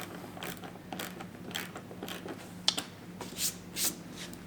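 Fender mud flap bolts tightened on an Arctic Cat Wildcat XX side-by-side: a close series of quick ratchet clicks in short repeated strokes, some sharper clacks toward the end, with no talking.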